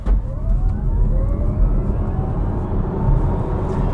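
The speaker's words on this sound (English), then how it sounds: "We come to a stop, foot on the brake, hard down the accelerator." An MG4 XPower electric car accelerating hard in sport mode from a standstill, a steady loud whine of motor and road noise rising in pitch as speed builds, continuous and close throughout.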